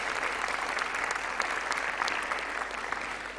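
Sustained applause from graduates at a nursing and midwifery white uniform ceremony, dense steady clapping from a large indoor crowd that continues without pause.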